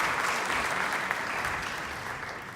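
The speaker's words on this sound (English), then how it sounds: "please give a round of applause to Bill Schuette" Debate audience applauding at the 2018 Michigan gubernatorial debate after a candidate introduction, a dense steady clapping from a large crowd that slowly fades over a few seconds.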